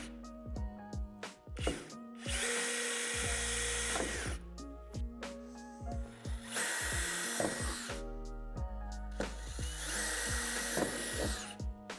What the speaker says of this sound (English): locate these divots at the top and bottom of the door and drill them out with the provided drill bit